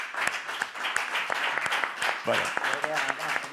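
Applause from a book presentation audience, scattered claps of moderate loudness running through, with a voice talking over the clapping.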